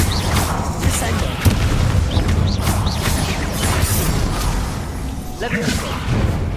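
A Descendo slam spell in the video game Hogwarts Legacy lands as dense booming impacts and whooshes over layered combat noise and music, continuous and loud throughout.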